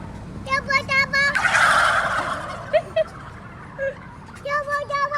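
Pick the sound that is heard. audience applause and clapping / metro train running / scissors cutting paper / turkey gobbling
turkey gobbling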